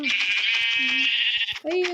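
Repeated bleating from a Minecraft sheep, loud and close, with a game backdrop and a short gap before a final bleat.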